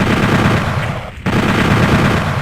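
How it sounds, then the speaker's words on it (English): A rocket launcher in Doom 64 fires with a loud, sustained roar of blasts and explosions, broken by a brief dip before the din resumes at full force. "Get the rocket launcher out and take out that Retribution across the way."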